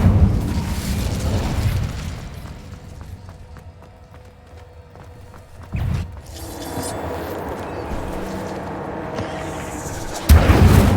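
An Incendio fire spell cast in Hogwarts Legacy: fiery whooshes and bursts with sharp impacts near six and ten seconds, amid game ambience and scattered mechanical effects.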